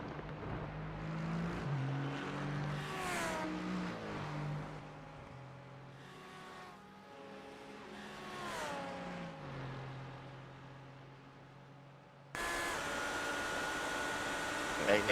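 A GT3 race car at Le Mans in a sim racing championship, its engine note climbing and falling through gear shifts with a second car joining in, moderately loud, then a sudden louder burst near the end.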